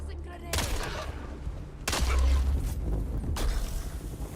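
Grenade blast in the sci-fi shooter Star Citizen: a loud boom lands among bursts of gunfire, with heavy low rumble and sharp impacts repeating over a few seconds, close and dense.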